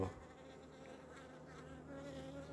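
Steady, close buzzing of honeybees, a soft continuous hum with slight wavering as bees move about nearby.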